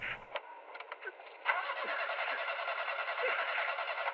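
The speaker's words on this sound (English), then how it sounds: "Try turning the engine on" Vehicle engine starting in the emergency-dispatch game 112 Operator: a few short clicks and a brief crank, then the motor catches and settles into a steady, fairly loud running drone that continues to the end.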